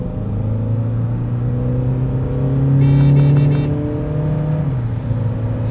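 A Skoda Monte Carlo car accelerates at full throttle on a kickdown, its engine note rising steadily in pitch and loudness, holding the gear toward the redline, then easing back, heard close with no talk.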